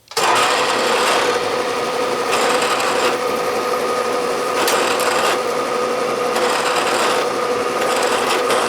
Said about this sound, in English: Now I will pilot drill both holes, 1/4 inch stubby starter drill.